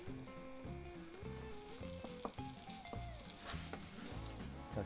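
Button mushrooms sizzle in a frying pan, a steady close crackle of hot oil with occasional stirring scrapes and clinks of a utensil, no voices.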